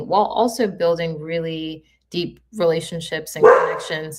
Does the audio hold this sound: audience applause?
no